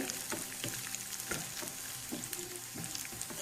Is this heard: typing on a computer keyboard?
no